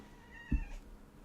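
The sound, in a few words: pet cat Inky meowing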